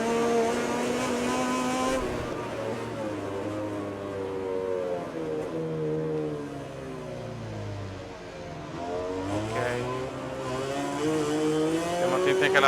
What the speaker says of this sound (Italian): E qua Vizioso, percepisco il rombo della sua Ducati, che presto sarà mia